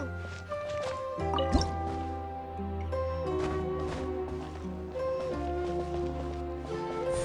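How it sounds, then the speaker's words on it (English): Water dripping in Genshin Impact, a droplet squeezing out of a wall with soft wet squishes and drips over steady layered game music. "Wow, another water droplet just came out from the wall!"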